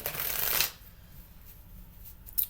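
A quick riffle of oracle cards being shuffled, close and crisp, followed by near silence and a faint tap at the end.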